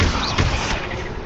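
A magic spell effect from a Hogwarts wizarding video game, a dense burst of whooshing, crackling noise with a thudding low impact near the start, loud and continuous throughout the short stretch.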